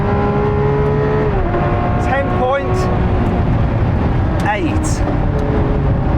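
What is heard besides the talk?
Lamborghini Aventador SVJ launch with hard gear changes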